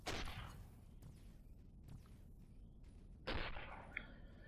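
Explosions in the space game Avorion: a burst of blasts at the start and another sharp boom about three seconds in, with a rumbling bed of game noise between them.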